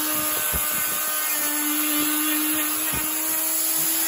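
A rotating Abrasive Brush Corporation cleaning brush takes a light cut of rust off metal, giving a steady, loud whirring grind with a constant motor hum and occasional low scraping bumps, no talking.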